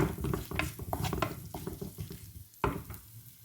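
A spoon stirs salt into samosa filling frying in a pan, making repeated scraping and clattering strokes over a steady close sizzle, with no speech.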